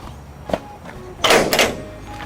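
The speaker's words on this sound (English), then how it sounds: "knocking these flaps down." Flaps being knocked down on a 1979 Coleman Gettysburg pop-up tent trailer: a few sharp, close thumps and knocks, with one brief bang followed by a louder double clatter against quiet outdoor background.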